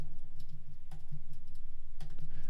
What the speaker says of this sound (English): I'm typing this into the chat.